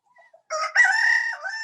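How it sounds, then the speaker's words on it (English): A rooster crows once, close and clear, after a couple of soft clucks. "Oh God, the chickens are up here."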